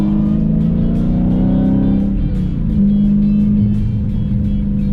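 A Dodge race car at full throttle on a racing school track, a loud, close, steady engine roar with the pitch climbing through the gears, heard from inside the car with no talk.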